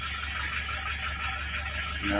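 A motorcycle engine with a suspected timing fault and an old tensioner runs steadily, making a continuous whirring, helicopter-like drone up close that grows slightly louder at the end.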